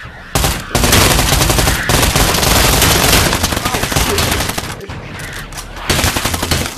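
Close, loud automatic gunfire rattles in the VR shooter Pavlov during a zombie-attack match, with rapid bursts from several weapons overlapping almost continuously and only brief pauses between volleys.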